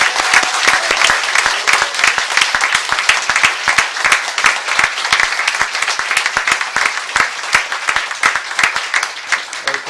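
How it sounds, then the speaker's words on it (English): A ceremony audience at the Royal College of Surgeons applauds successful diplomates with loud, continuous clapping, individual sharp claps standing out from the dense patter for ten seconds. "have a round of applause for the successful diplomates"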